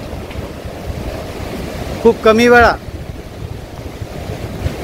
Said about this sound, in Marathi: ते पूर्ण क्षमतेनं या ठिकाणी पाणी जात आहे